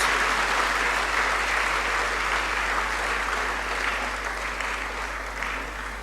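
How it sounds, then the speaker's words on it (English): Resounding applause fills the hall at an inaugural university lecture, a dense, loud, unbroken wash of clapping from a large audience that tapers slightly toward the end. "we give another resounding applause to this courageous son of our land"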